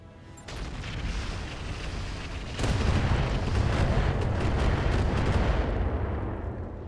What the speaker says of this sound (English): The bull shark can continue to advance and drop another artillery.